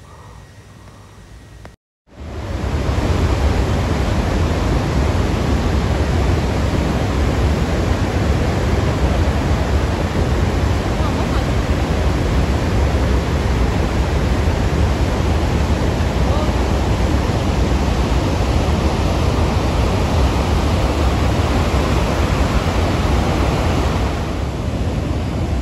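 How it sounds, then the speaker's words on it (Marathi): Water surges through two open gates of the twelve-gate Girna dam near Nashik, a loud, continuous, broadband roar that holds steady after a brief dropout near the start. "धरणाला 12 दारं आहेत, त्यापैकी 2 दारे त्यांनी उघडी ठेवलेली आहे. त्यातून सुद्धा इतका मोठा प्रवाह आपल्याला दिसतो आहे."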